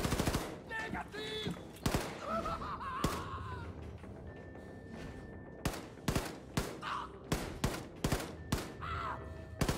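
Gunfire in the video game Wolfenstein 2: The New Colossus: loud, sharp shots crack out one after another in irregular bursts, with short game noises between them.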